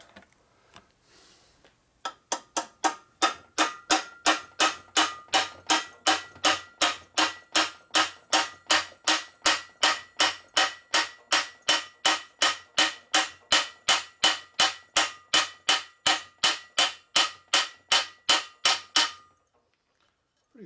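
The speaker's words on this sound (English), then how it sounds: "So we're just going to tap in a little bit with a hammer here." A long run of sharp metallic hammer taps driving a part into a 1947 Harley-Davidson EL knucklehead engine case, evenly paced at about two per second, close and crisp, continuing steadily before stopping abruptly.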